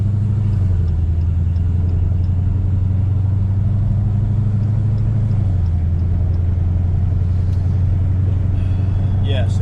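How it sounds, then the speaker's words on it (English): Loud car exhaust fitted with exhaust valves, rumbling low and steady while the car is driven, with a sustained engine drone that shifts slightly in pitch partway through. "I'm sure you guys can probably hear the exhaust."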